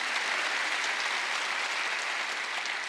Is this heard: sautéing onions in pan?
no